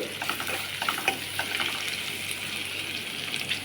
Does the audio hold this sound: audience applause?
no